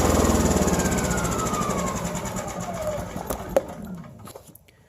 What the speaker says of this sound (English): you can tell the generator is still running